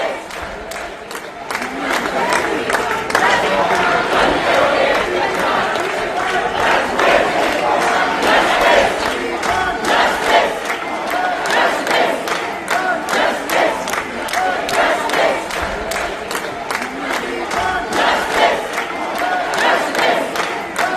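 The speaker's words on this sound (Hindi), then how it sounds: "वी वांट जस्टिस के नारों के साथ ये लखनऊ की तस्वीरें।" A loud crowd of doctors on a protest march in Lucknow chants a slogan in unison. Rhythmic shouted chanting and clamour continue steadily throughout, close and dense.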